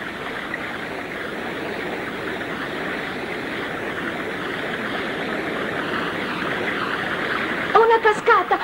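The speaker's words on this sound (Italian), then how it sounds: "Una cascata, una cascata!" A rushing waterfall on a fast-flowing river makes a steady, broad roar that builds slightly, with a brief burst of voice near the end.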